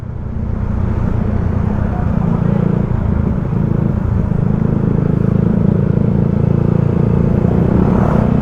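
Heavy road traffic of cars and motorcycles in a kilometre-long jam rumbles loudly and steadily up close, with a Yamaha Mio Sporty scooter engine droning near the mic, while someone talks over it.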